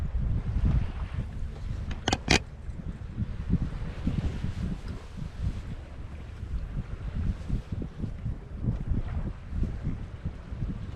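A sailboat under way on a very windy day at about six knots, with steady wind noise buffeting the microphone and water rushing along the hull, plus a couple of sharp knocks near the start.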